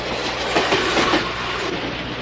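Inside a moving train, a steady loud rumble with rhythmic wheel clatter on the rails, continuous and close, with no voices.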